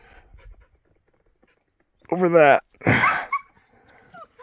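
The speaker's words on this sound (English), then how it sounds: "Oh, look at that dog." Rio, a dog out shed hunting in New Mexico, gives a close burst of rough panting and a harsh bark-like sound, with a brief spoken remark nearby and birdlike chirps at the end.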